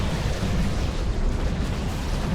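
A Weirdboy's Foot of Gork ability in the Dawn of War 2 video game lands as a loud, dense, sustained rumbling blast that fills the whole clip.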